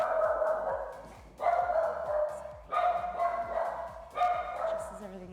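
A dog barks repeatedly in a home kitchen, several loud, close barks in bursts with short pauses between them.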